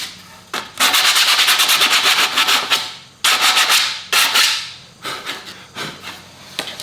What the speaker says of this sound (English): I just have to sand it, get rid of all of these rough edges